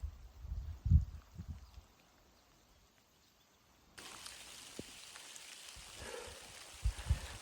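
Heavy rain falls over a Driftless area trout stream, a soft steady hiss that thickens midway, with a few low thumps and knocks near the start and isolated louder drops toward the end.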